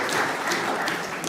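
Applause from an audience at a youth event, moderately loud and continuous with a few sharper claps standing out.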